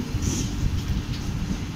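A sleeper-class coach of the MDU MAS AC Express 06020 running on the rails out of Madurai gives a steady, loud rumble with continuous low rolling noise and a faint hiss throughout.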